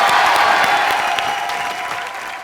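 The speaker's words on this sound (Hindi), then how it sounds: "सनी पाजी के लिए जोरदार तालियां" A TV comedy-show studio audience applauds Sunny Deol, a loud, dense burst of clapping that carries through the whole stretch and gradually eases off, with faint crowd murmur underneath.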